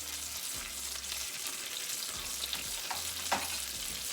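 Seasoned cod tongues sautéing in a pan, a soft continuous sizzle with small pops and a few stirring scrapes, close and fairly quiet.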